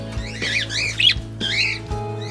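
Pet parakeet squawking up close, three harsh rising-and-falling calls in quick succession over a steady low hum.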